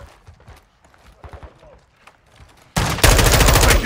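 Quiet movement and faint shuffling give way to a sudden, loud, sustained burst of rapid automatic gunfire in Call of Duty Warzone 2, close and dominating the final second.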